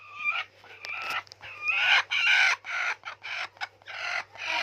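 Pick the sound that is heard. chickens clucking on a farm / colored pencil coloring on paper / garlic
chickens clucking on a farm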